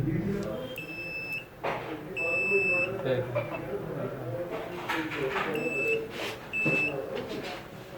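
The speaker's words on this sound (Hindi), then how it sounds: "तो अगर बीप आ रही तो क्या है? सही है।" A continuity tester beeps while probing washing machine wires and parts on a fully automatic front-loading machine, giving several short high electronic beeps in bursts, with someone talking over and between them.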